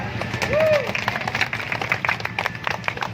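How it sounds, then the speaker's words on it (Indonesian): A crowd at an outdoor residents' land-rights gathering claps for the residents, dense steady applause throughout with scattered cheers and a voice talking over it. "Tepuk tangan untuk warga."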